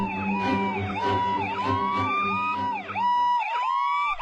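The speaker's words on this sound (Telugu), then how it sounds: "అమ్మయ్యా, టైంకి అంబులెన్స్ వస్తుంది." An ambulance siren wails in a continuous rising and falling pattern, loud and close, over a busy roadside with crowd noise, cutting off abruptly near the end.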